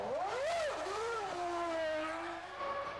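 Michael Schumacher's Ferrari Formula 1 car in the F1 2000 racing game, a high-pitched engine whine that rises and falls through gear changes as it heads toward Copse corner, steady and close.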